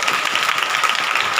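A congregation at a Hindi church service claps hands together, with a brief, dense burst of steady applause filling the room.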